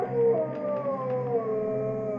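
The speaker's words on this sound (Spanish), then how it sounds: "Oí aullar a un perro y ese sonido familiar me hizo aguzar el oído." A single dog howls in a long, wavering, mournful tone, loud and close with nothing else around it, used as an audiobook sound effect.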